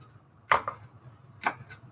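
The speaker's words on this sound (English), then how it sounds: "So just chop the onion and the bell pepper." A knife chops onion and bell pepper on a cutting board for a Cajun omelette: four crisp, close strokes in two quick pairs, separated by a short pause, with no talking.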